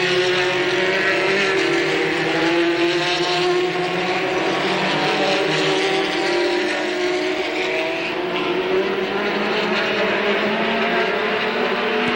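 Race cars at a 1985 ASA race at Capital drone continuously around the track, their engines blending into a loud, sustained, buzzing roar with shifting pitch as the field runs together, and no voices heard.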